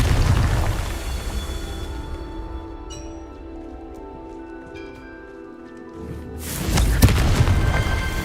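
Confringo explosion spells in the video game Hogwarts Legacy burst with deep, rumbling booms, one at the start and another near the end, with a quieter stretch between them.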